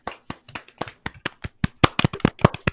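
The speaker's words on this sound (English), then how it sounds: "A round of applause" Several tabletop game players clap in a short round of applause, sharp uneven claps close to the microphone that grow louder and denser toward the end, with no talking.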